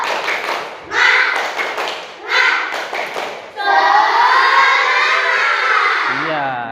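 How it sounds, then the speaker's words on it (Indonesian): Schoolchildren in a classroom do a rhythmic spirit clap, loud close bursts of group clapping in a patterned beat, followed by a sustained burst of cheering and shouting voices. "Tepuk semangat."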